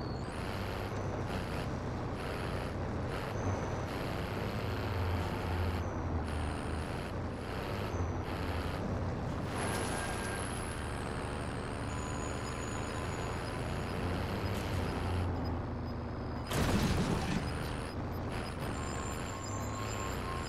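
A vehicle driven in a video game match gives a steady, loud rumbling engine drone with hissing, brake-like bursts, running without a break throughout and no talking over it.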